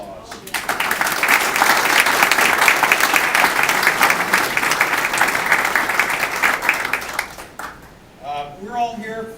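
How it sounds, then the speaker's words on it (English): A crowd claps loudly and steadily for several seconds, the applause fading before a voice begins speaking. "the organizers of this conclave deserve a warm round of applause."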